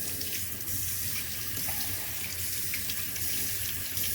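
Cold water runs steadily from a kitchen tap to rinse homemade butter, a continuous loud hiss and splash into the sink with no pauses, heard alone without talk.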